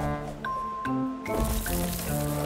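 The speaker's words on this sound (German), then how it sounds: "Und was ist das für ein Geräusch? Eine Welle!" In a cartoon, a wave washes over a sandcastle on a beach with a splashy, squishing rush of water. Bright tonal cartoon sounds play around it, and the whole thing is fairly loud and close.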